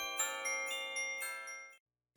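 A bright bell-like notification chime rings with a metallic shimmer, struck a few times in quick succession and sustained, then cutting off abruptly into silence; clear and alone, with no talk.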